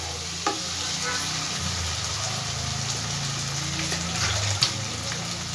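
Spice-washing water goes into a pan of fried potatoes and masala, bringing a continuous sizzling hiss with a bubbling, watery texture and a couple of sharp clinks from utensils against the pan.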